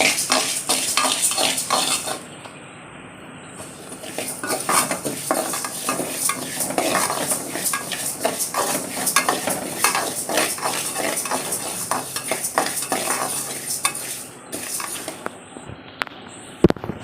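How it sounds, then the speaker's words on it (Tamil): Moong dal is dry-roasted golden in a pan and stirred constantly with a metal spoon, giving steady close scraping and rattling over a faint sizzle for the whole stretch, with a short quieter gap partway through. "அதே வானலில் 1/2 டம்ளர் அளவுக்கு பாசிப்பருப்பு, அதையும் வந்து நல்லா பொன்னிறமாக வறுத்துக்கிறோம்."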